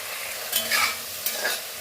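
Beef masala sautéed in a pan with two distinct bursts of scraping stirring over a steady close sizzle, no voices.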